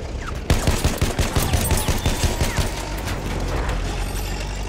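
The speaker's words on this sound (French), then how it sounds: "Mitrailleuse ennemie, par là." In the World War I shooter Battlefield 1, an enemy machine gun fires a rapid, loud burst of rhythmic shots. After a brief quiet start, the burst keeps hammering, then gives way to a dense battlefield rumble.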